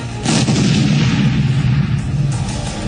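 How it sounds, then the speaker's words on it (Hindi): A loud burst of gunfire with heavy booming reports, rapid shots blending into a rumbling roar close by, during a terrorist attack. "गोलियों की आवाजें थमने का नाम नहीं ले रही थी"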